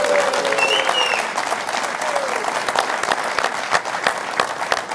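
Football supporters of AC Milan and AS Roma at a live show applauding and cheering, a dense, steady wash of clapping with voices audible on top and some whistle-like cries early on.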